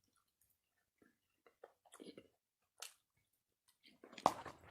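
Close, soft chewing of food while eating, with wet squishy bites in short irregular bursts and one louder crunchy bite near the end, between quiet pauses.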